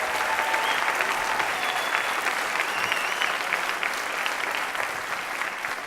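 Applause from an audience at a Tucson community pitch competition honoring the finalists, a broad sustained patter of many hands heard from some distance, steady for several seconds and easing slightly near the end.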